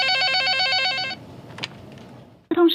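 A telephone rings with a bright, warbling electronic trill for about a second, falls silent, then starts ringing again loudly at the very end.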